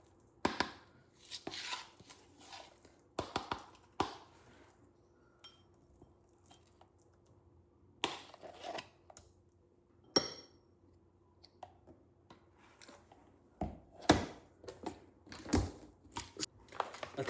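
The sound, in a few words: knife chopping nuts into pieces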